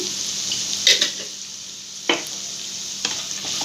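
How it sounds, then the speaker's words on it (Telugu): Spices, including coriander powder, fry in a pan for crispy okra, with a steady close hiss of sizzling oil broken by a few brief scrapes and clinks of a spoon stirring. "ఇప్పుడు ఇది మంచిగా కలిపేసుకోవాలండి, బాగా ఫ్రై చేయాలి."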